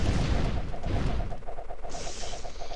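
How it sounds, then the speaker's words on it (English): In the tower-defense video game Idle Kingdom Defense, the hero Herald sets off small blue explosions: a rapid series of muffled booms and pops in quick succession, dense at first and then settling into a steadier, lighter rhythm. "the little blue explosion is from Herald"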